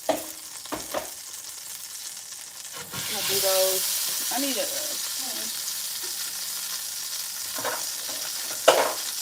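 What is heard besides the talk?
crab claws frying and sizzling in a pan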